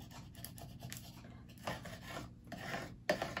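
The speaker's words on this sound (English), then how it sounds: "we're going to rub it in to make sure that it's stuck really well" A Cricut vinyl decal being rubbed down firmly with a tool: soft continuous scratching and rubbing strokes, close but fairly quiet, with a few slightly louder scrapes and no voices.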